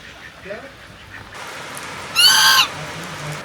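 Swans honk at a riverside resort on the bank of a Himalayan river, one loud, close, nasal call standing out briefly above a steady outdoor background after fainter earlier calls.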